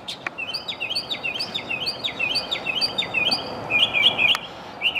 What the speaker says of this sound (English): You guys can see that bird up there. This bird sits here every morning.